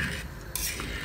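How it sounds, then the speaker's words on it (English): A pot of meat and vegetables is stirred in one short burst of scraping and clinking from the spoon over a low, steady cooking hiss, close up. "So now we're going to give it a stir"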